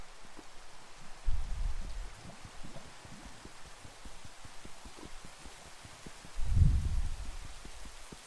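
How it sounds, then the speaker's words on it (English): Rain falling in the Minecraft video game, a soft steady hiss of drops with low rumbling swells, continuous and fairly quiet, with no talking. "And it starts to rain."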